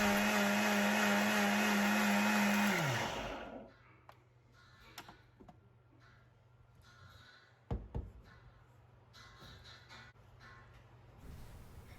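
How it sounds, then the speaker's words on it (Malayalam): A kitchen blender whirs loudly and steadily, grinding unniyappam batter for about three seconds before winding down, followed by faint clinks and handling noises in a quiet room. "അപ്പോൾ നമുക്കിത് നന്നായിട്ടൊന്ന് അരച്ചെടുക്കാം."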